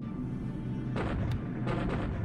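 Bombs bursting in a World War II air-combat video game as aircraft hit a runway and parked planes, two or three sharp booming blasts in quick succession over a constant engine drone.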